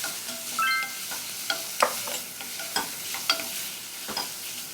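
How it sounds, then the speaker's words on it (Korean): Beef stir-frying in sesame oil in a pan for Korean seaweed soup, a steady close sizzle broken by scattered scraping and stirring clinks of a utensil, with no talk. "자, 나머지 참기름 이렇게 넣고요. 다, 달달 볶아주세요."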